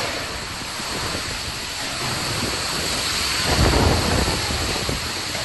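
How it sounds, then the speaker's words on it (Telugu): Heavy rain pours steadily in Choutuppal, Yadadri Bhuvanagiri district, Telangana, as thunder rumbles, swelling into a louder low crack toward the end of the short stretch with no talk. "యాదాద్రి భువనగిరి జిల్లా చౌటుప్పల్లో ఉరుములు మెరుపులతో భారీ వర్షం పడింది."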